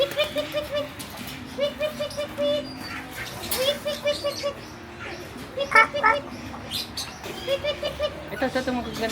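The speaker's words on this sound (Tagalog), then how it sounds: "Ito magaganda ibon, no?" Repeated chirping bird calls in short rhythmic bursts, close by, with people talking over and between them.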